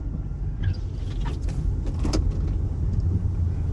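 Cars rolling along a snowy Southern Michigan road after a snowstorm, a steady low traffic rumble with a vehicle swelling nearer partway through, continuous and fairly loud with no talking.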